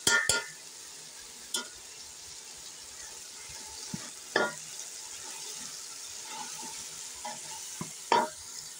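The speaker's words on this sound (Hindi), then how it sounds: "अब हम इसमें शलजम जो हमने निचोड़ कर रखे थे वो भून लेंगे अच्छी तरह से।" Squeezed turnips frying with spiced masala in a pan for shaljam bhujia, a soft continuous sizzle broken by a few sharp stirring scrapes, close by with no voices.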